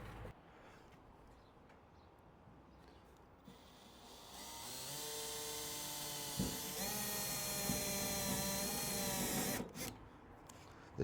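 An electric drill with a chuck that grips bits poorly spins up and whines at a steady high pitch for several seconds while drilling holes to fit a wide arch kit on an Isuzu Rodeo D-Max pickup, with a brief lull partway through, then cuts off.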